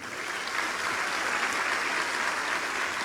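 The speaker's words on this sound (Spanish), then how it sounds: "Un aplauso a Cristo." A church congregation applauds after a sermon, with a dense, steady wash of clapping from many people that stays even and moderately loud throughout.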